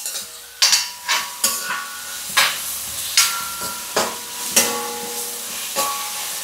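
Green chili and onion being sautéed in a pan for a Sunday breakfast: a steady loud sizzle with repeated scraping stirs coming at an even rhythm, close and clear, no talking.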